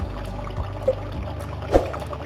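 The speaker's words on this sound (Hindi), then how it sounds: "तो आप थोड़ा सा पानी, जो गर्म पानी है ना, वो आप इसमें डालेंगे, थोड़ा सा 1/2 कप या 1 कप।" Hot water poured into beef karahi in a cooking pan, a soft continuous pour with a couple of brief sizzling or splashing bursts, close by and with no talk.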